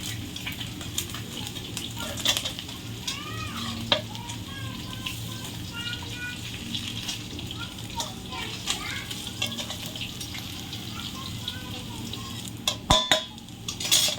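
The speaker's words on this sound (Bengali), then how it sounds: "দেখুন বন্ধুরা কত সুন্দর করে ভেজে নিয়েছি মাছটা" Catfish (magur) frying in hot oil in a village-style kitchen, a steady low sizzle running throughout with occasional clinks of utensils and a few sharper knocks near the end.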